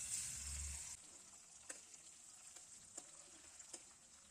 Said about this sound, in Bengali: কড়ার মধ্যে 2 চামচ সর্ষের তেল দিয়ে তার মধ্যে টপ টপ করে একটু একটু করে মাছ ভেজে তুলে নিলাম